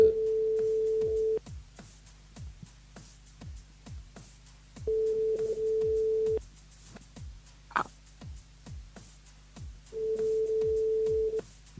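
A telephone line rings out during a live Télé Kréol and Kréol FM radio call-in, steady tone bursts repeating about every four to five seconds, clear and fairly loud, with faint clicks in the gaps and no talking.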